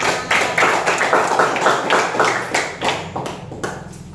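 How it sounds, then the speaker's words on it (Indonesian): Students in a classroom clap together in a close, loud burst of applause, with sharp, fairly rhythmic claps running for several seconds and no talk over them. "Tepuk tangan untuk Rima."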